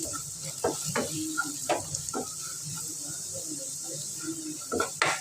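Turmeric, chilli and fenugreek powder frying in a pan, giving a steady close sizzle with scattered scraping taps of a spoon stirring, no talk.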